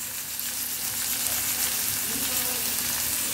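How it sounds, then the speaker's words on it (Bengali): Chopped onion and a dried red chilli sizzling in hot ghee in a pan, a continuous bright crackling fry heard up close and steady throughout, with no voices. "এই সেই সেম ঘি পড়ে আছে, তাতে একটা শুকনো লঙ্কা দিয়ে দিলাম, আর এই পেঁয়াজ কুচিটা দিয়ে দিচ্ছি।"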